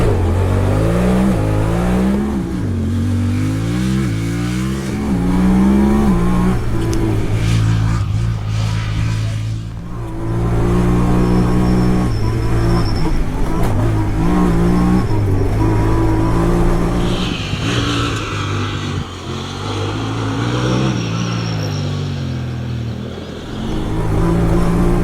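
A Honda Talon 1000R-4 side-by-side accelerates hard, its engine revving up through gears with rising and falling pitch, loud and close from onboard, with brief dips between shifts.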